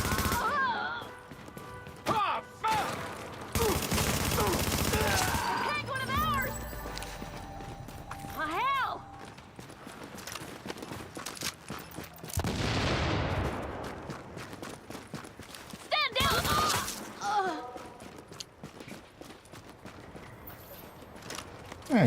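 Gunfire in the video game The Division comes in loud bursts and sustained volleys, mixed with dense game effects and a player talking over the action.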